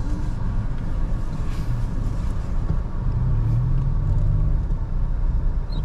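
Heard from inside a moving vehicle stuck in traffic, a loud, steady low rumble of road and engine noise fills the cabin with no voices over it.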